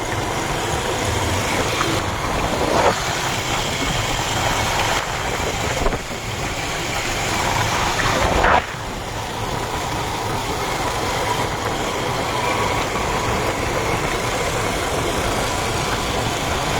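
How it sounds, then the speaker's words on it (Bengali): A motorcycle ride out in the open air produces a continuous engine drone and rushing wind, loud and steady throughout, with a few brief thumps and no talking. "মোটরসাইকেলটা ভালো লাগতেছে বাতাসে।"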